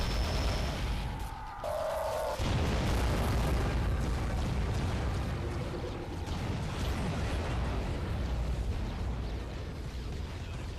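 Game explosion in the underwater shooter Aquanox: a dense, roaring boom with rumbling, crackling debris that rolls on for several seconds and slowly fades, with a brief tonal game sound early on and no talk.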